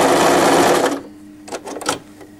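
A sewing machine stitches the two layers of a pants waistband in a loud, steady run for about a second, then stops and gives a few brief, fainter bursts of stitching.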